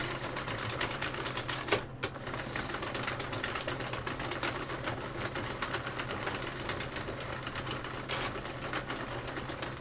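Knitting machine carriage cranked back and forth while making hats from yarn: a steady dense mechanical clatter and whirring runs throughout at close range, with brief louder knocks, and no voices.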